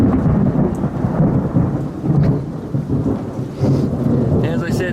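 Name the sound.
thunderstorm with rain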